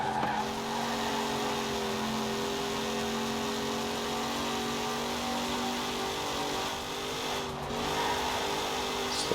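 A Corvette C8 race car in Forza Horizon 4 takes a corner with a steady, droning engine note and tyre squeal, sustained and fairly loud with a brief dip near the end, no talking.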